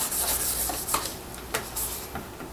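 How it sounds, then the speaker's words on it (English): A brush loaded with leather dye is wiped out, giving a few short, soft scrubbing rubs close by with small pauses between them and no talking. "I'm just getting the extra dye out of the brush so I can use it again"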